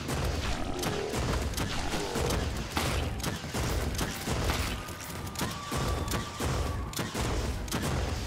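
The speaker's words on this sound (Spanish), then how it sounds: "Ah, que las balas rebotan del cerdo," Dense gunfire from The Crackpet Show shoot 'em up, with bullets ricocheting off a muddy pig enemy boss: continuous rapid shots and metallic impacts over a busy game soundtrack, steady and loud throughout.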